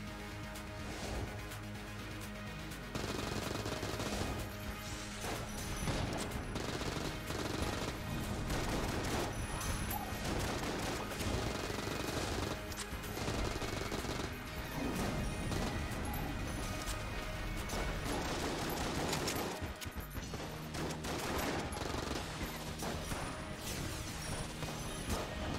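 Dense, sustained gunfire from an assortment of guns in Enter the Gungeon, with rapid overlapping shots and crashing impacts that run nearly nonstop, loud and close, with no talking.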